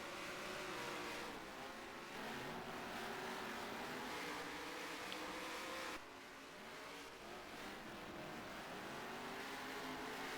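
Saloon race cars lap a Southland track at a championship meeting, engines roaring continuously at a distance with a steady, slightly shifting drone as cars pass.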